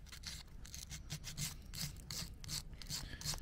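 Sandpaper rubbing over a small wooden carving for a gypsy wagon, a close, steady rasping scrape in quick repeated strokes with no talk.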